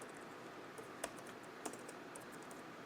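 Computer keyboard typing while writing Python code for a KNN model, a quiet, steady run of soft key taps with a couple of sharper, louder keystrokes standing out close by.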